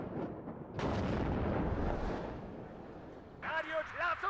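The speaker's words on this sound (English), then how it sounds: "Just keep moving because they're pretty on point with their artillery" Artillery fire in the Cold War strategy game WARNO: a heavy, rumbling broadband blast swells and slowly fades, then clipped radio-style voices speak over the tail.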